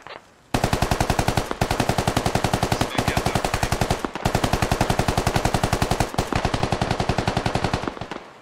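Sustained machine gun fire in the military shooter game Squad, long rapid bursts of evenly spaced loud shots, briefly pausing every second or two before resuming, close and dominant throughout.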